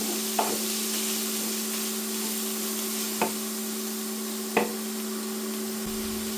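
Food fries in a pan for chili loaded fries with a constant loud sizzle and steady hum, broken by three sharp utensil knocks against the pan spaced a few seconds apart.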